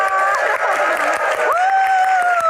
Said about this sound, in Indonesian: Tepuk tangan buat para panitia.